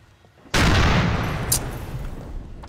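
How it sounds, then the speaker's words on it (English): A vehicle blows up in a video game during a police roleplay scene in a tunnel, hitting as a sudden loud blast after near-quiet and then rumbling on as a sustained heavy roar. "We just had a vehicle explosion."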